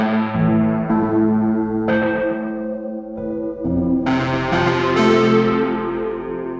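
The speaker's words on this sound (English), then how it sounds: "the rust, which is basically running the piano through a distortion pedal" A Cattaneo piano run through a rust distortion effect, playing loud, gritty sustained chords with buzzing harmonics and sharp new attacks every second or two, continuous and alone.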